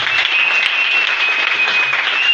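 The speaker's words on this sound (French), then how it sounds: "Vous pouvez acclamer pour Jésus." A church congregation applauding for Jesus during a French-language worship service, steady, dense clapping that fills the room evenly from start to finish with no pauses.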